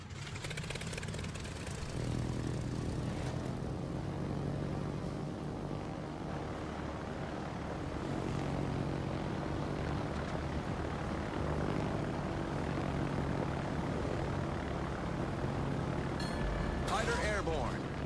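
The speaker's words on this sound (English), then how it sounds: "Fighter airborne" Fighter aircraft taking off in a naval warship video game, a sustained propeller-engine drone with tonal harmonics and a rising whine, heard alongside game sound effects and voices talking over it.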